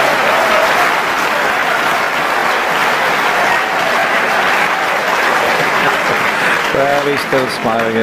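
Snooker crowd applauding a lucky shot with steady, loud clapping that fills the whole stretch, and a voice comes in briefly near the end.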